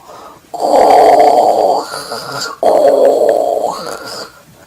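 A voice imitates a wolf snoring with two long, drawn-out rasping snores, loud and close, separated by a short gap.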